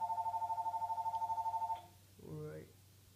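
A telephone rings with a rapid, warbling electronic trill that pulses steadily for nearly two seconds before cutting off, followed by a brief voice.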